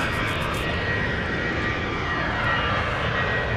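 A Boeing 737 MAX 8 airliner at Dallas Love Field roars loudly and steadily with broadband engine noise, close and continuous, with no voices over it.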